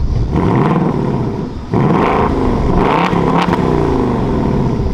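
A 2024 Ford Mustang S650 GT V8 revved remotely with nobody inside: two loud, close blips of the engine climbing and falling, with a brief dip between them, and no talking.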